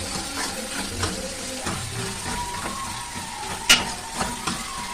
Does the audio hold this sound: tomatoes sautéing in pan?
yes